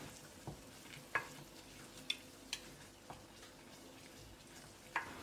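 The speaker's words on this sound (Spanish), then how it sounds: "Una vez licuada, le añado la harina. Hay que remover constantemente." A spoon stirs flour into melted butter for béchamel, giving a soft continuous sizzle with several sharp clicks of utensil against the pan, quiet and close.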